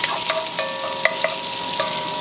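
Butter, about a tablespoon, melting and sizzling in a pot as the base for clam chowder, a bright crackling fry with a few clicks and scrapes of a utensil, no talking.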